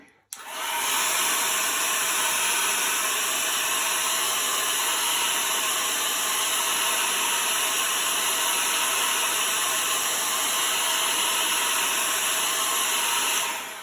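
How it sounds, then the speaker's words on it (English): A blow dryer runs steadily for about thirteen seconds, drying chalk paste on a craft stencil. The motor makes a loud, constant airy roar with a faint high whine, starting abruptly and continuing without pause or talk. "we're going to use a blow dryer to dry that a little bit"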